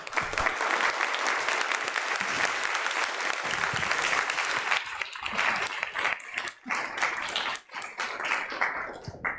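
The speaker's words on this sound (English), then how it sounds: "Please welcome him with a big round of applause, Mr. Ryotaro Sakurai." Audience applause fills a youth summit opening event hall, steady and loud for several seconds, with a few claps thinning out near the end.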